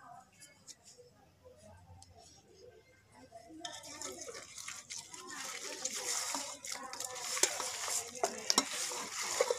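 Fish curry paste is worked by hand in a bowl, a quiet wet squishing that grows louder and busier after a few seconds, with soft squelches and clicks.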